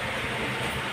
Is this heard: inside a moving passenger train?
yes